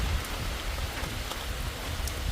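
Heavy rain falls on a high mountain slope. It makes a dense, steady hiss of drops with no pauses and no voices.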